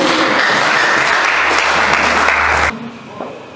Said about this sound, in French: Et nous l'accueillons avec des acclamations.